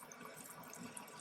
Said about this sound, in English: So all I'm doing is just adding water to this.